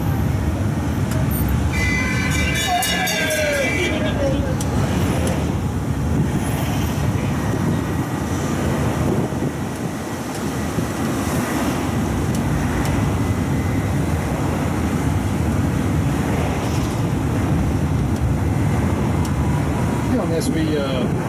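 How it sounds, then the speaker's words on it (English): Tourist train rolling past along the coastline in Noumea, a continuous low rumble heard from inside a moving vehicle, with a short whistle-like tone early on. "And here comes another train."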